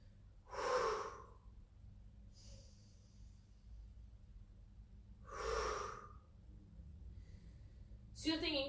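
Deep breathing during a pilates exercise on the floor: two slow, close breath bursts several seconds apart over quiet background, followed by a brief sharp sound at the end.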